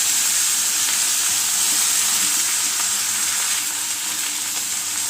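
Chopped spinach frying in a pan, a loud, close, continuous hiss and sizzle with steady bright crackle and faint stirring, no voices over it.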